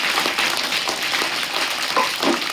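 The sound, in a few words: audience applause at a Thursday prayer gathering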